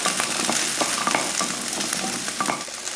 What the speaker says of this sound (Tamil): அது போல் ஒரு அஞ்சு ஆறு போல் பூண்டு இதையும் நல்லா வதக்கிடுவோம்